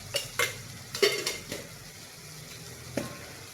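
Coriander powder goes into a sizzling pan, heard as a low frying hiss under several short, sharp spoon and utensil clinks against the pan, spaced irregularly.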